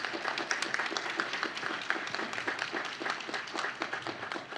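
At a community and business awards event, an audience gives the sponsors a round of applause. The clapping is steady and fairly faint, with no talking over it.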